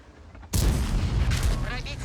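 A tank cannon fires in a World of Tanks style tank battle game, a sudden loud boom followed by rumbling impact noise and battle clatter, heard up close beneath a commentator's talking.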